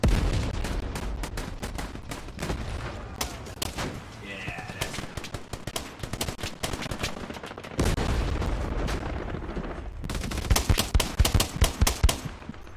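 Close, heavy machine-gun fire near a chapel in a World War II shooter game, with long rapid bursts broken by brief pauses, then a sharper stuttering volley at the end, with talk faintly underneath.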